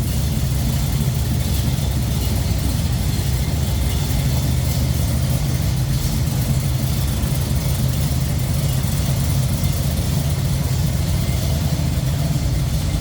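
A 1968 Chevrolet Camaro SS with an L78 engine, headers and correct heads idles steadily nearby, its deep, even low rumble holding without pause and with no voices.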